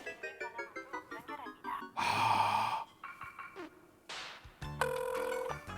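A phone rings with an incoming emergency call placed by a personal safety alarm device, a clear electronic ringtone bursting in after a stretch of breathy sighs and gasps, loud and close.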